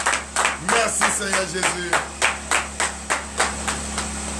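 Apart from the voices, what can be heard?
congregation clapping and cheering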